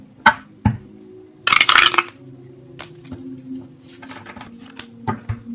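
A brisk riffle of tarot cards shuffling, preceded and followed by a few light taps and clicks against a quiet background.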